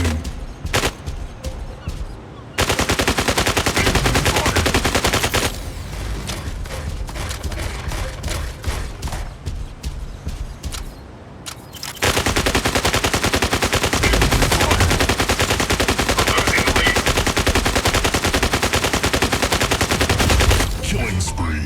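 Mech gunfire in the video game Mech Arena, long sustained machine-gun barrages in loud blocks separated by short lulls of scattered shots, close and intense, with occasional game voice announcements.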